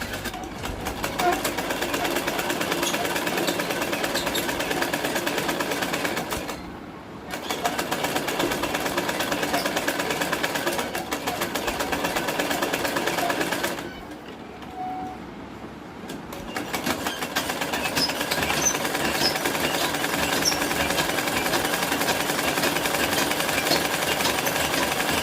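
An electric sewing machine stitching cotton handkerchiefs runs in a steady, fast mechanical whir, stopping briefly twice before starting up again.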